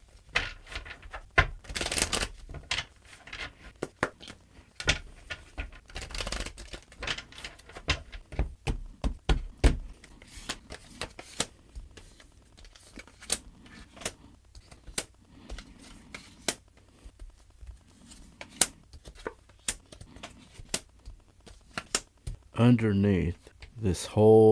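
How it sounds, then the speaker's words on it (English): Tarot cards being shuffled make a series of sharp riffling clicks and flutters in bursts, close and fairly quiet, with a speaking voice at times between them. "3 more shuffles and let's begin."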